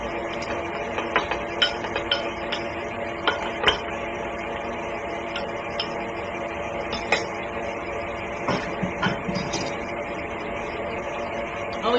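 Quiche Lorraine filling is whisked in a bowl with a steady patter of light clinks and taps, close by, with faint kitchen background noise.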